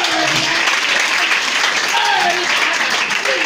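A church congregation at a Pentecost service applauds and cheers loudly and continuously, dense clapping filling the room with voices rising within it.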